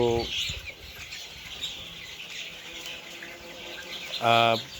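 Broiler chickens about fourteen days old, raised on fermented water in a farm shed, make a low chirping flock murmur, with loud harsh squawks at the start and again near the end.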